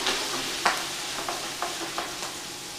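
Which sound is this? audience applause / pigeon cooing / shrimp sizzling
shrimp sizzling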